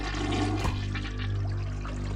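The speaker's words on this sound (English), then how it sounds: "Is it flushing the toilet?" A toilet-flush-like whoosh of rushing water rises inside the TL Hopper wrestling theme song, heard over steady droning music with no talking.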